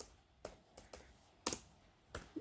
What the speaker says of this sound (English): you need to type a command snout